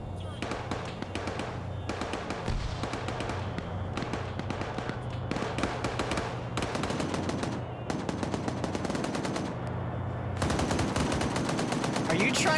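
Rapid automatic gunfire in a shooter video game, dense bursts of loud shots repeating across the whole stretch with short pauses, with voices talking underneath.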